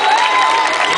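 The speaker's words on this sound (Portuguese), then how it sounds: "Uma salva de palmas para o Clube" Applause from an audience at a band competition, a dense burst of clapping and cheering that sounds loud and close for a brief moment.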